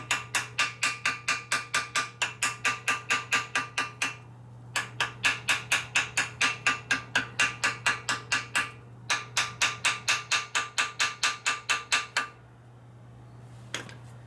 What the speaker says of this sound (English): just kind of hammering on it